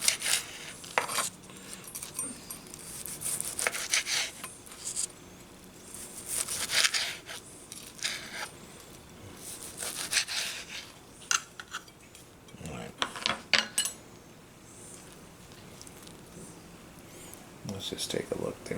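A knife slicing through a smoked sous vide T-bone steak on a board, with scattered scraping cuts and clinks of cutlery and plates, under a person talking throughout.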